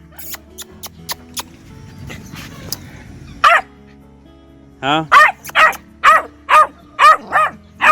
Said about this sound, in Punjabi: ਆਪਾਂ ਨੇ ਕੁੱਤੀ ਲਿਆਂਦੀ ਇਹ 2 ਮਹੀਨੇ ਦੀ